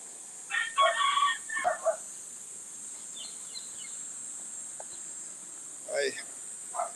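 A rooster crows twice in the Philippine countryside, a near call early and a fainter one later, over a steady bed of chirping crickets.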